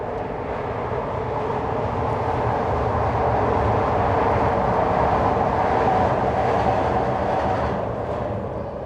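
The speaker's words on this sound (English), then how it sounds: "Train coming." A train rumbles past nearby, a steady heavy roar with faint rattling of cars that holds throughout, no talking.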